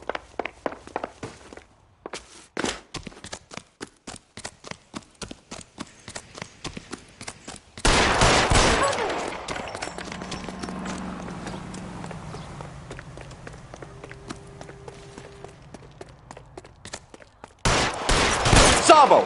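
Gunfire and running footsteps fill a shootout in the video game L.A. Noire, with rapid sharp cracks in bursts, a quieter stretch of tense background sound in the middle, then another loud volley at the end.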